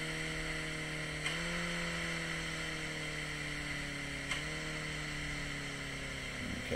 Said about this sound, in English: Now I'm going to be slowing down by engine braking,